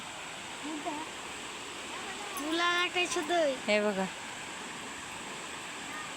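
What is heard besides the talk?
swollen river water flowing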